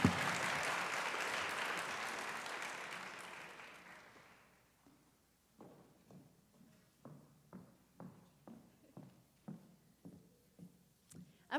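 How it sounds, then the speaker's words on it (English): Audience applause for a student at an honors night awards ceremony, a steady wash of clapping that fades out after about four seconds, followed by a string of soft, evenly spaced thumps. "Let's give him a round of applause."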